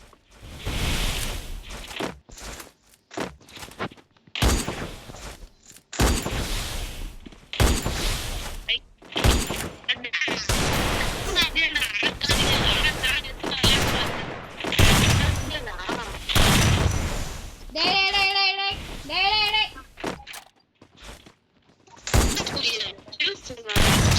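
Video game gunfire rattles in bursts and single shots through an online match, loud and close, heard under and between excited voice chat from several players.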